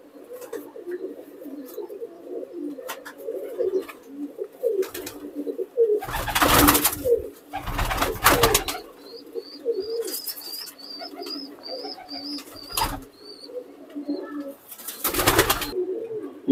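Pigeons cooing in soft low repeated phrases throughout, with occasional loud rustling bursts and faint bird chirps in the background.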